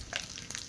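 Whole spices and cumin, with bay leaf and dried chilli, sizzling in hot oil for a fish curry, a short steady crackling hiss with a few sharper spits, close and alone.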